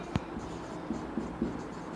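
A pen writes out a maths solution on paper, with a short run of faint scratching strokes and light taps, heard close and alone.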